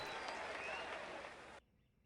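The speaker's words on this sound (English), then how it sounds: "We even get a little cheer." A short burst of crowd cheering and applause rewards a completed cargo job in Microsoft Flight Simulator, loud and dense for about a second and a half before cutting off abruptly.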